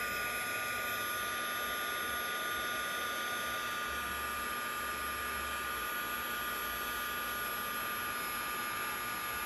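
A steady, loud hair dryer blows without a break, a constant broadband whoosh with a high whine on top.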